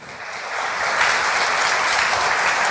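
Church congregation clapping together, a full, loud burst of applause that swells within the first second and then holds steady and dense throughout.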